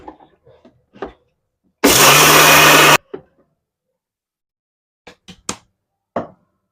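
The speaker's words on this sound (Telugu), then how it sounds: "ఇప్పుడైతే మిక్సీ పట్టేసేసుకుంటాను." An electric mixer grinder whirs loudly in one steady burst of about a second, coarse-grinding jowar (sorghum) into a light semolina texture, with brief kitchen clatter before and after.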